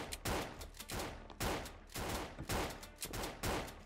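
Repeated gunshots in a party minigame from Minigame Game, a steady run of about eight faint sharp cracks spaced roughly half a second apart, with no voices.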